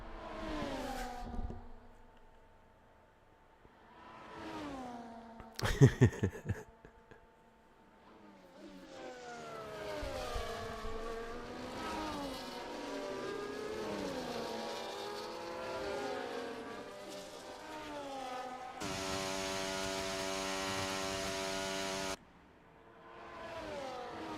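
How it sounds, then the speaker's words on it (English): Formula 1 race cars in the F1 24 video game at Spa, engines whining and shifting through rising and falling pitch sweeps, with a sharp burst near the start and a steady loud drone through most of the lap. "I know you always want the engines louder"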